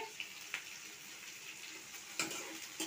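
Onions frying in a pan for an egg puri recipe give a steady, soft sizzle that runs throughout, broken by a few light clicks and scrapes.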